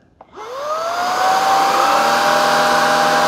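Shark IZ682H Vertex Pro cordless vacuum switching on after a small click, its motor whining up in pitch within about a second and then holding a loud, steady whirring hum close by.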